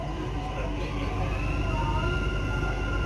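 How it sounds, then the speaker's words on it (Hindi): Dubai Metro train starting to move after its doors close, a steady low rumble with rising electric motor whine heard from inside the carriage, continuous and fairly loud. "मेट्रो चल गए"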